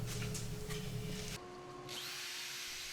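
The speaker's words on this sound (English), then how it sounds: "I'll sand this in real time with 60 grit, a pass or two" A power drill spins a 3.5-inch 60 grit sanding disc against a wood turning, giving a loud whirring, rasping drone that briefly drops, then a quieter steady spin continues.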